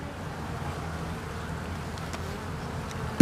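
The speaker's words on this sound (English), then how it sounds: "there's still quite a bit of bees in here" Honeybees hum steadily and densely at an opened hive frame after a swarm, a close, even drone that holds throughout, with a brief knock near the end.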